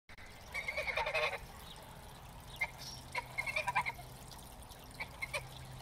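Bursts of honking quacks from ducks on a pond with a homemade filter system come in quick clusters, fairly close, over a low steady background hum.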